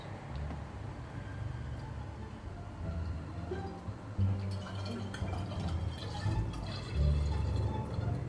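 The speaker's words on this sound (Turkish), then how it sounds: "Şimdi de sürahi, sürahiye aktarıyoruz." Homemade lemonade poured from a container into a jug, a gurgling stream with drips and splashes that grows fuller toward the end.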